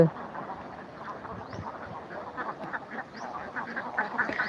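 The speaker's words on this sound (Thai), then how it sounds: "มาชมเป็ดกันนะคะ เป็ด เป็ดทุ่งนะคะ" Egg-laying ducks quack in a steady, busy chorus across an open field, the calls overlapping and continuing throughout at moderate volume.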